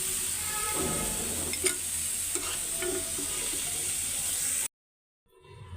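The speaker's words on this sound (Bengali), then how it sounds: "মিষ্টি কুমড়ার ভাজি হইতে তো সময় লাগবে না এই জন্য ভাজিটাই আগে বসাই দিই" Sweet pumpkin bhaji sizzles steadily in a frying pan, with a few scraping stirs and clinks. The sound stops abruptly near the end, then faint sizzling returns.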